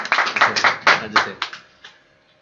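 A small audience at a reading-club TED video discussion gives a burst of scattered clapping that quickly thins and fades within about two seconds, with a speaker's voice over it.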